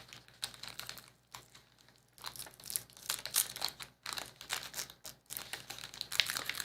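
Packaging being cut open with a blunt knife, close and dry, giving uneven scratchy crinkling and rasping strokes in short bursts with brief pauses between them.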